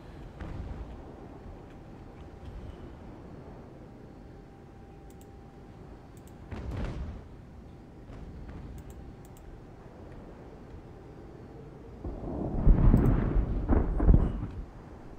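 Naval cannon fire in Ultimate Admiral Age of Sail, a US campaign battle at Valcour Island, with muffled, distant booms: a lone report midway and a louder, rumbling cluster near the end over a quiet background.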